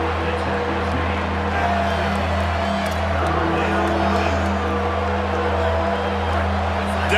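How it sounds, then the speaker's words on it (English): A steady roar of a stadium crowd cheering in a college football video game, Wisconsin at UCLA, a dense, continuous wash of sound that stays loud throughout the clip. "Decibels rising as the crowd gets behind this defense on third down."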